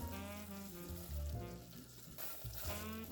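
Cream cheese and black beans sizzle in a pan as they are stirred together, giving a steady close crackle with faint scraping and soft tonal hums beneath.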